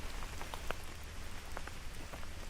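Steady recorded rain patters on a surface with scattered droplet ticks, a continuous even hiss played back at a moderate level with no talking.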